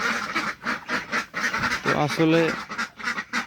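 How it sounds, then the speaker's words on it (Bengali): Sick Chinese ducklings on a farm quacking in short nasal bursts close by, mixed with someone talking over much of the clip. "আর এই হচ্ছে চীনা হাঁসের বাচ্চাগুলা অসুস্থ খুবই।"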